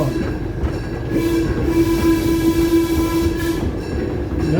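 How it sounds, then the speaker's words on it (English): A heritage excursion train sounds a steady, loud whistle tone over the continuous rumble and clatter of the moving cars, close by and with no talk. "Now listen to the whistle for a crossing signal."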